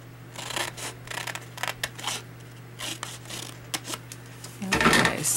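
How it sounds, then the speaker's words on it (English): Scissors snip white cardstock into an angled flap for an envelope, a series of short crisp cuts and rustles at close range, ending in louder paper handling. "get my scissors here. You just cut this and have it like a little bit of a angle there"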